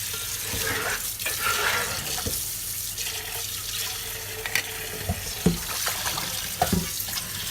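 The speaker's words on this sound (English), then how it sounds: "And then we're going to use hot water." Hot water runs steadily from a kitchen tap into a cast iron pan being cleaned, a continuous hiss with a few sharp clinks and knocks near the end.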